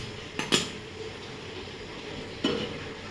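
A pot of milk is set down on a gas stove to heat, giving a couple of brief metallic clanks near the start and another knock a little later, close by against a quiet kitchen background.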